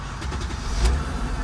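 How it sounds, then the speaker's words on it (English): A 2005 Mercedes-Benz CLK320 engine starts and settles into a low, steady idle rumble, close by and fairly loud, with no talk over it. "Okay, let's go ahead and start this car."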